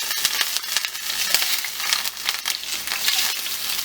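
Scotch bonnet peppers frying in hot olive oil, a steady loud sizzle with crackling pops spread evenly through the whole stretch.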